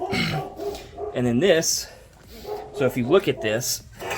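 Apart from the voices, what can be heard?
dogs barking indoors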